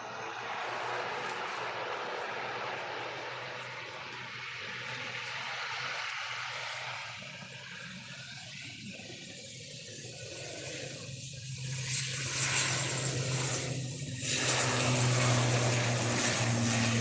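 Aurigny Air plane taking off for Guernsey from Manchester Airport on a drizzly morning, a steady broad engine roar that swells louder toward the end, heard from a distance outdoors.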